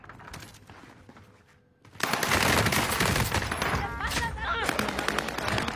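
Video game gunfire: a quieter stretch of scattered shots, then a sudden dense burst of rapid automatic fire and sniper cracks, loud and sustained to the end.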